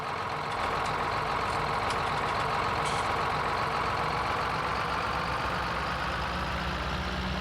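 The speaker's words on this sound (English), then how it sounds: "This is a beautiful tractor to pull this. It's really just sings along with it on, really." A tractor engine in Farming Simulator 19 runs at a steady, continuous drone, close and constant throughout, with a few faint high clicks early on and no talk over it.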